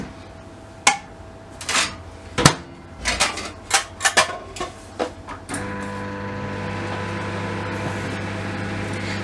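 A kitchen microwave is set to medium-low to soften butter: a series of sharp button clicks and beeps, then the oven starts with a steady, loud electrical hum that carries on unbroken.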